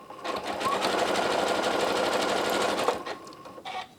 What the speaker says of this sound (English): as I'm sewing along, I can do the lock stitch as I'm sewing